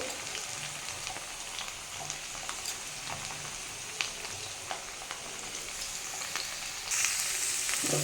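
Beetroot pieces fry with potatoes in hot oil in a pan, a low steady sizzle dotted with small pops and stirring sounds that grows slightly brighter near the end, with no speech.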